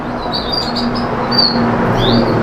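Caged birds chirp with scattered high tweets and short calls over a steady background hum, fairly close and continuous, with no one speaking.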